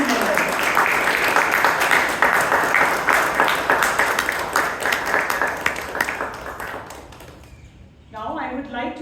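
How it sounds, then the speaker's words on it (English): Toastmasters club members in Bangalore give a round of applause for new members, a lively burst of clapping that thins into scattered claps and fades out, followed by a voice starting to speak. "Can we have a big round of applause for him and all the new members?"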